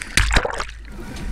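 Choppy open-sea water, whipped by gusting wind off the California coast, slaps against a boat in two quick loud splashes, followed by a churning wash.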